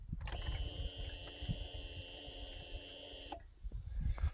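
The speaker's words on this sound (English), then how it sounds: "you can hear the fuel injector going off." A Yamaha SR400 fuel injector primes with a steady high-pitched electric whine and buzz with faint ticking for a few seconds, then cuts off abruptly, close to the microphone.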